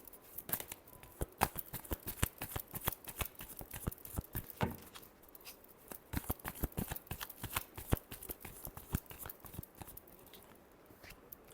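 Tarot cards are shuffled by hand in a rapid, continuous flurry of crisp riffling slaps and papery flutters, close and clear with no voices.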